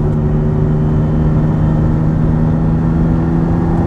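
Engine of a 1973 Ferrari 246 GT Dino while driving, a loud steady drone with strong low harmonics from inside the car, constant throughout with no speech.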